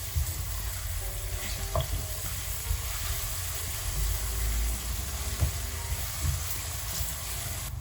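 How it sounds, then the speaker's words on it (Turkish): Grated carrots and onions sauté in a pan for a cauliflower dish, giving a steady close sizzle with faint stirring scrapes throughout. "Havuçlarla birlikte de birkaç dakika kavuruyorum."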